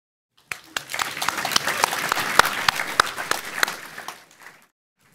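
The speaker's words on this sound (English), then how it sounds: "Have you ever been applauded while you've been working on WordPress before?" An audience at a WordPress speed build contest at WordCamp Europe 2024 bursts into applause, a burst of many clapping hands that builds, holds for a few seconds with some louder individual claps, then fades away.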